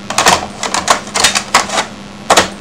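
A Parsec game cartridge is pushed into a TI-99/4A home computer, giving a series of sharp, close plastic clicks and clacks in irregular bursts, with a final distinct click after a short pause.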